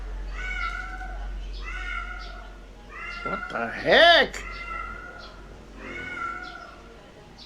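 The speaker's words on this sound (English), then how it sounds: "It's a cat, I think." A cat meows several times in drawn-out, wavering cries, close and fairly loud, with a person briefly speaking over one of the calls.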